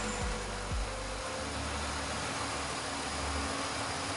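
A car engine idles during a fuel delivery check, giving a steady low hum that stays constant and close. A brief dip in the low rumble comes early on, and no one talks.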